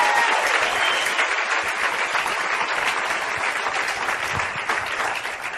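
A church congregation breaks into steady, dense applause, loud and continuous for several seconds and tapering slightly toward the end.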